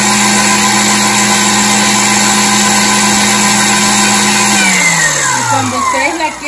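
A Princess House countertop mixer runs with a steady, loud motor hum that holds its pitch, then slows and winds down in falling tones near the end.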